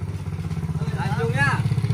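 A motorcycle idles close by with a rapid, pulsing engine throb that continues steadily beneath people talking in Vietnamese.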